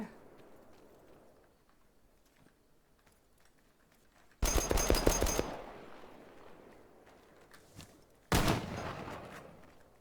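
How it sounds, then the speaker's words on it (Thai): Two loud bursts of rapid automatic gunfire in a survival shooter game, each lasting about a second, break through an otherwise quiet stretch. "ยิงกันยิงเข้าไป ยิงเข้าไป"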